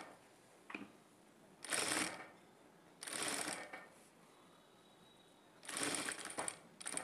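A sewing machine stitches the side piece of a blouse in three short bursts of rapid mechanical whirring, separated by quieter pauses with faint background hiss.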